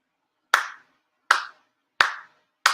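Ritual hand claps before the Mikama Shinto altar at a monthly ceremony of a Tamamizu Church branch: four sharp, loud, deliberate claps, evenly spaced with short decaying ring and silence between, no voices.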